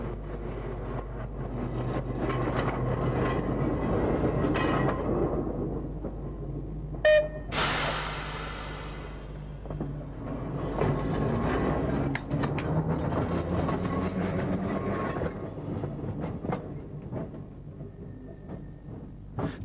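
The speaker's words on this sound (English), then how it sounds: "From here, the Manx Electric Railway heads north to Laxey and Ramsey" Manx Electric Railway tram running on the Isle of Man, a steady rumbling roll of wheels on track with a brief sharp hiss or squeal partway through, continuous and fairly close with no talk.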